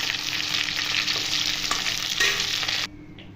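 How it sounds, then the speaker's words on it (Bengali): Broiler chicken pieces fry in hot oil over a high flame, a loud, steady sizzle with occasional crackles and spatters that cuts off abruptly near the end, leaving faint kitchen quiet. "এবার তুলে নিয়ে বাকি চিকেনগুলো ভেজে নেব।"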